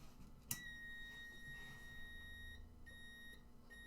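A pinball machine gives a steady electronic beep, a thin sustained tone with a sharp click near the start and a few brief repeats later, all over a constant low machine hum.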